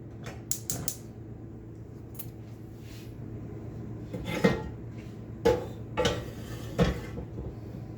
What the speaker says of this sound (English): We'll cut that up.